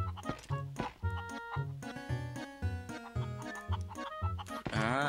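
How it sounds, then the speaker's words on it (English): Chickens in the video game Zelda Twilight Princess cluck in quick bursts over a bouncy game music loop, with a final rising, squawking call near the end. "Let's grab a chicken right here."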